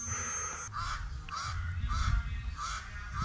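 Honking mallard duck calls repeat at a steady pace alongside harsh pied crow caws as they forage, over a low rumbling background outdoors, with no talking.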